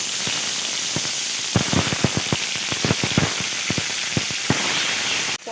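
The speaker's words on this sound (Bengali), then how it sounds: "পটলগুলো ভেজে নেব।" Pointed gourd frying in hot oil in a home kitchen, a steady crackling sizzle with bursts of sharp pops and spatters, close and fairly loud, then cutting off abruptly at the end.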